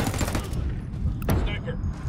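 Rapid gunfire in the tactical shooter Ghost Recon Wildlands, a dense burst of overlapping shots close by that tails off into a couple of sharper cracks, with voices talking over it.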